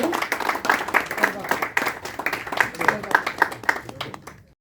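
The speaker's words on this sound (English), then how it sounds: "Let us celebrate this wonderful achievement with a huge round of applause." An audience claps at a book launch for 'Natural Wonders of Goa', a lively scatter of individual hand claps with distinct sharp hits, swelling and dipping before fading out at the end.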